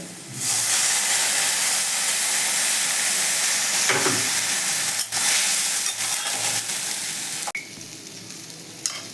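Hot water hits a pan of fried onions with a loud, sustained hiss and sizzle, steady and close, with a couple of brief clicks and scrapes near the end.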